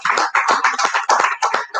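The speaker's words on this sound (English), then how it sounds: "Give her a big round of applause." Audience at a town hall meeting claps in a short burst of fairly close, uneven hand claps, a small group rather than a large crowd, lasting under two seconds.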